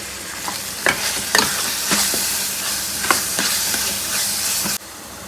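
Chopped tomato pieces and coriander powder sizzle in a hot pan, a steady crackling hiss broken by several sharp scraping stirs, before the sound cuts off abruptly near the end.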